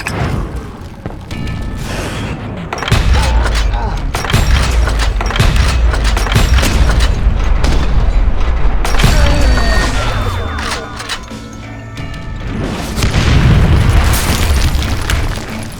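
Heavy booming blasts of gunpowder and dynamite from the Wild West shooter Call of Juarez: Gunslinger, several loud deep explosions rolling out over the span, with rumbling debris between them and no talk.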